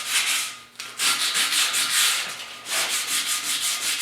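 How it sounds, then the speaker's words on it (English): Sandpaper of 150 grit lightly sands a rusty tire rim. Close, hissing strokes come in three rhythmic bursts of back-and-forth rubbing, with short pauses between them and no talking. "Giving it a light sand with some 150 grit here now."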